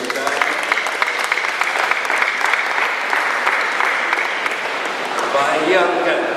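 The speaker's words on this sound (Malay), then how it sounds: "Kita berikan tepukan." Audience applause at a retirement ceremony for a Malaysian professor, loud and sustained clapping from a crowd, with crisp individual claps standing out over the dense roar and a voice murmuring near the end.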